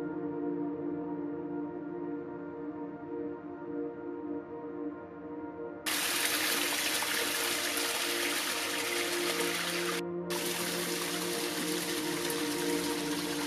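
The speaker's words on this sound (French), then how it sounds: "Près du ruisseau de la vallée" A valley stream on the northern Djurdjura mountain trail flows with a steady rushing hiss that jumps suddenly louder and closer partway through, then continues unbroken with no voices.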